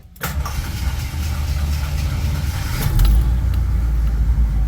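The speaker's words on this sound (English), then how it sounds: "we are going to give it a good start, and we're going to listen to it run" A 1978 Jeep Cherokee engine cranks briefly, catches, and settles into a steady low idle that grows slightly louder near the end, heard up close with no talking.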